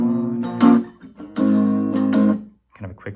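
Guitar strums a major barre chord shape in a few ringing strokes, loud and close, with a brief pause before a final lighter strum.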